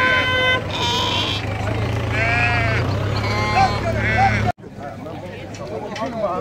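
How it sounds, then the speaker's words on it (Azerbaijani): Lambs at the Maştağa sheep market bleat repeatedly and loudly close by, amid crowd noise, a vehicle horn and voices. "Maşallah, gözəl quzulardır."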